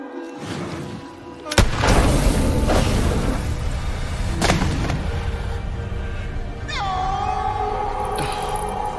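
Gunfire from the horror video game The Quarry: a sharp blast, then another a few seconds later, within a loud, dense game soundtrack that ends in a rising wailing cry.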